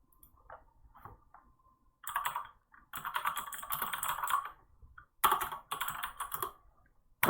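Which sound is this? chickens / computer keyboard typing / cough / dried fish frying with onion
computer keyboard typing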